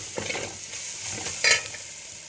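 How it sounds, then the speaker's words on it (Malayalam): Macaroni mixture stirred in a pan, a spoon scraping and swishing in a few soft strokes with one louder scrape near the end, faint sizzling beneath. "ഇത് നന്നായിട്ട് മിക്സ് ചെയ്യുന്നുണ്ട്."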